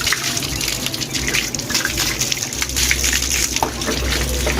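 Water splashing and gushing across a floor as it is rinsed clean during cleanup at a shrine, a steady wash of liquid with low rumbling underneath.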